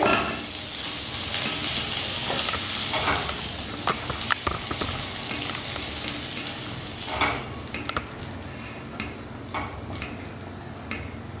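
Eight medium pointed gourds fry in hot mustard oil in a pan, a steady dense sizzle with scattered clinks and scrapes of a utensil stirring and lifting them out.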